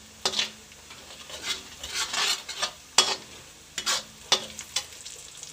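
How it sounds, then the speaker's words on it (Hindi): A dry spice mix of turmeric, coriander, chili and amchur is stirred and roasted in a pan with soft sizzling, scraped by a spoon in irregular close strokes. "इसे हल्का सा भूनेंगे।"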